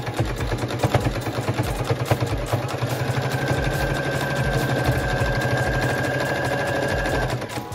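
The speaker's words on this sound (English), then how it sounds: "sew to the center of the sewing machine" A sewing machine runs steadily, its rapid rhythmic needle stitching close and continuous, briefly slowing near the start before settling into a constant whir.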